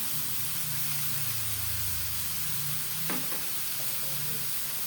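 Pork and crushed ground pepper stirred in a frying pan for pork mechado give a steady sizzle with a brief scrape of the utensil partway through, close and fairly quiet, with no one speaking.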